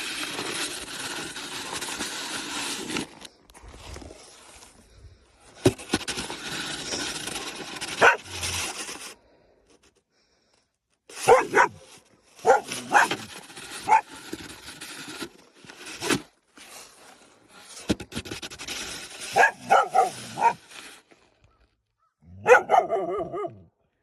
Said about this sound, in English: That's not very nice to bark at people.